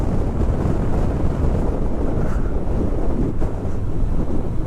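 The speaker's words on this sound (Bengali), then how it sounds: "আর এখানে চলছে প্রচণ্ড হাওয়া" Strong wind roars on a mountain road to Lachen in North Sikkim, a loud, continuous rushing that buffets the microphone without a break.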